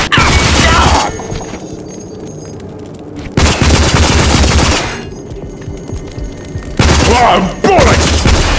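Heavy bursts of automatic gunfire from the PC shooter RAGE come in three loud, dense volleys separated by quieter gaps of ambient game sound, with sharp impacts and booms layered in.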